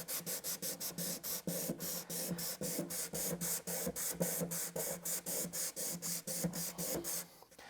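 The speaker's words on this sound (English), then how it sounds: "I've taken some adhesive back sandpaper and just folded it over." Hand sanding wood with folded-over adhesive-back sandpaper on a trunk panel, a steady run of about twenty quick, even rasping strokes, close and fairly quiet, with no talking.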